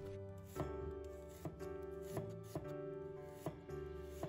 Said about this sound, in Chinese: 准备半个洋葱，先把洋葱切成丝，洋葱的丝尽量切小一点